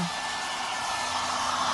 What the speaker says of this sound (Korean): 어 마르고 있네. 드라이기를 말리고 있습니다.